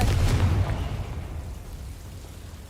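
A Confringo fire spell bursts in Hogwarts Legacy, a single heavy low blast that hits at the start and then trails off into a fading rumble.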